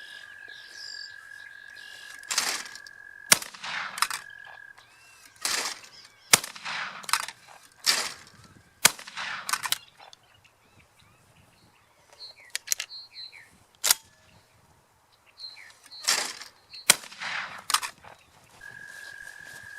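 A Fabarm XLR5 flat-rib shotgun fires 1-ounce and 1 1/8-ounce clay loads: several sharp, separate reports spaced seconds apart, with bird chirps filling the gaps between shots.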